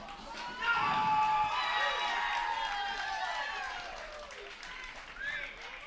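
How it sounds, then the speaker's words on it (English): At the 2022 APTA Nationals men's semifinal, a crowd at a paddle tennis match erupts in cheering, shouting and applause. The noise swells suddenly, stays loud and sustained for several seconds, then gradually fades. "5-2 Burris Odoya as the pro-Burris crowd erupts"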